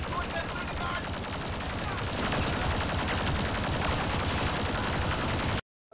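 Heavy blaster and gunfire in the Star Wars Battlefront 2 video game, a loud continuous barrage of rapid shots that cuts off abruptly at the end, with voices faintly mixed in.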